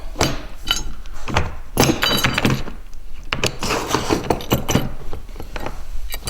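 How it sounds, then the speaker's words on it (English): A metal track nut slides into a console's metal track, making a close run of light clinks, taps and scrapes of metal on metal, irregular and busy throughout, with no speech. "Put the track nut into the track."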